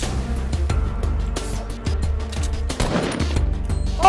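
Sharp gunshots in a Fortnite match, a string of distinct loud cracks spaced irregularly across a few seconds, close and punchy with little else around them.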